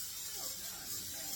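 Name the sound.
cooking spray sprayed onto a pan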